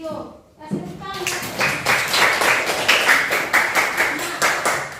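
Classroom applause, rhythmic clapping from a group of students that starts after a short pause and continues steadily, with voices mixed in.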